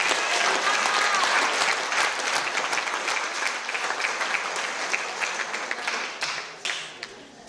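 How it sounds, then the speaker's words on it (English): Wedding guests break into a loud burst of applause that starts strong, tapers gradually, and trails off into scattered claps near the end, with no talk. "A big round of applause for Nan."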